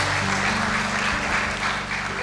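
A church congregation at a Sunday worship service applauds in steady, dense clapping that fills the room, with a low sustained hum of music or voices underneath throughout.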